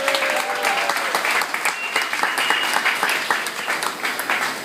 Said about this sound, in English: So let's have a round of applause for the governor.